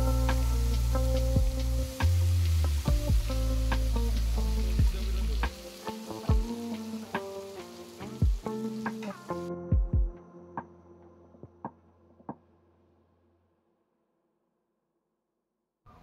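Whole spices such as nigella seeds dropped into hot oil in a wok for a koi fish curry, giving a loud steady frying sizzle with scattered clinks and stirring knocks that fades out toward the end.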